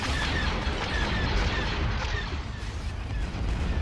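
Dense space battle gunfire and cannon blasts from Star Wars Empire at War, a continuous loud barrage of overlapping laser shots and booming impacts with no pause.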